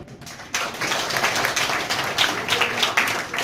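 An audience bursts into applause after a woman shares her story at a school storytelling event, dense clapping starting abruptly and continuing steadily, fairly close.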